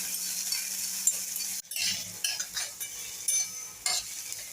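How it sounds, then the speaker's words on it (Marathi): A spoon stirs and scrapes finely chopped onion with curry leaves and asafoetida in a pan over a low steady sizzle, with a few short clinks; no voices. "बारीक चिरलेला कांदा कांदा परतून घ्यायचा"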